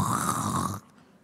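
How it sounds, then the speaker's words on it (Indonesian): A single snore, one fairly loud rasping breath close by, stopping abruptly into near silence. "Ngorok"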